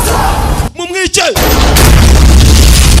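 Gunfire and explosions from a film scene of men clashing with police and drug dealers, with loud blasts and dense roaring noise filling the clip and a short voiced shout in the middle.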